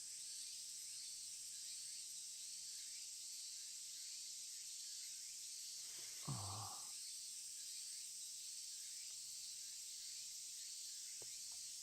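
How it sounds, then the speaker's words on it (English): Cicadas keen steadily through a hot summer scene in the video game Tsukihime, a continuous high-pitched droning chorus with a brief louder low thump midway. "The air shimmers with heat, and the keening of cicadas eats at me."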